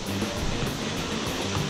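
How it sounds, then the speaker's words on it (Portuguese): The Saltão waterfall, an 86-metre free fall, produces a steady broadband roar like rushing wind and surf, loud and continuous with no breaks. "conforme você vai chegando perto, ó, o barulhinho vai aumentando da cachoeira"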